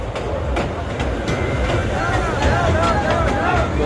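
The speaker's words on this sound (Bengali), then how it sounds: "টয় ট্রেন এখানে যাচ্ছে।" A toy train rolls through Golden Star Park, an amusement park in Nagoriakandi, Narsingdi, with a continuous rumble and light rail clatter up close and a bustle of background voices.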